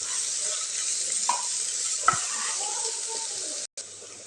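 A carrot rice mixture is sautéed in a pan, with a continuous soft sizzle and a couple of brief scraping stirs partway through, heard close with no voices.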